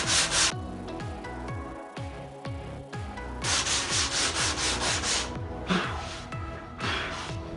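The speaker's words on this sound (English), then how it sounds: "You just kind of just want to lightly sand." Light hand sanding of a sheetrock patch over a repaired hole, steady rhythmic rubbing strokes close up with short pauses between bursts, no voices.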